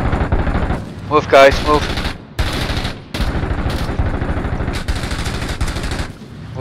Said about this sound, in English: I'm laying covering fire to the last known position